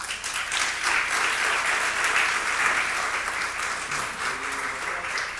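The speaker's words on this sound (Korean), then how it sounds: "다시 한번 박수와 우리 서로에게 격려해 주시면 감사하겠습니다" Audience applause after a lecture at an international pastoral conference, steady dense clapping from a large crowd holding at an even level throughout.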